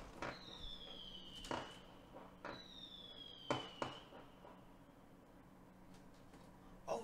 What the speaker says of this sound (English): Oh shit, fireworks.